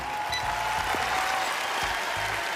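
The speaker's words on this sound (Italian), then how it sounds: "Vai, applausi!" Short burst of steady applause, even and moderately loud throughout, in an Italian gameplay episode intro.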